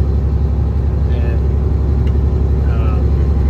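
Classic truck with a million-mile engine pulling hard under load, a loud steady low rumble running throughout with voices talking faintly over it.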